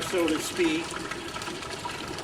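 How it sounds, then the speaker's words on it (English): Water gushes steadily from a return jet in a backyard pool, a continuous close rushing and splashing flow while someone talks over it. "You want the water to come out pointing upward, because the idea is this blows the water"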